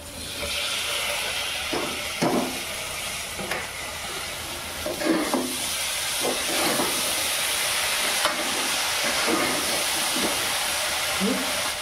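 Chopped banana flower vegetable hits a hot oiled pan and sizzles steadily, with repeated scraping stirs of a spoon against the pan over the constant hiss, close and fairly loud.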